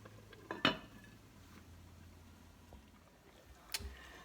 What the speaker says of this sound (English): So I'm going to stir it and allow it to cook for about another 5 to 10 minutes